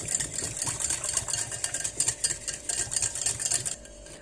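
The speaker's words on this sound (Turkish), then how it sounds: "Çırpıcıyla iyice karıştırıyorum." A whisk beats yogurt, lemon juice and egg yolk in a bowl, quick rhythmic metallic clicks and scraping in a steady pattern, close and clear, easing off at the end.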